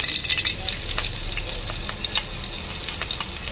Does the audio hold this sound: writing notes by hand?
no